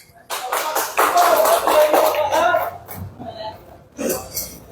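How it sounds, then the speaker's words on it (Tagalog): A small group clapping their hands during a hands-on training session on handling oxygen and acetylene bottles, a burst of claps lasting a few seconds, then a pause and a brief final flurry, with voices nearby. "Oh, palakpak."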